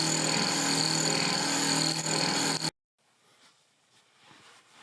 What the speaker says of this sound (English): Here's the example of the current noisy blower fan and the low amount of air that it is pushing.